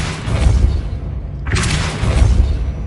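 A Pulso spell is cast in Hogwarts Legacy: a loud, deep rumbling boom that dips briefly and then surges again with a bright, rushing burst, heavy and close.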